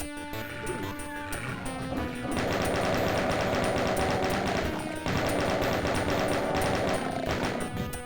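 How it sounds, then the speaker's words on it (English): A chain gun fires in the Ultimate Doom video game, rapid steady bursts of loud mechanical shots in two long runs with a brief pause between, layered over game background music. "Is the chain gun here? Yeah, it is."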